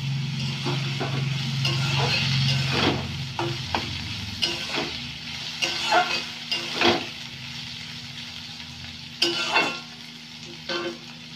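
Carrots and baby corn frying and being stirred in a pan for fried rice, a soft sizzle under repeated scraping strokes and clinks of a spoon, close and uneven in rhythm.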